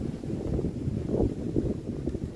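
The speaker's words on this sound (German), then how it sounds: "Sorry für den Wind, den kann ich nicht abschalten." Wind buffets an outdoor microphone with a continuous low, rough rumble that pulses unevenly throughout, and no voices are heard.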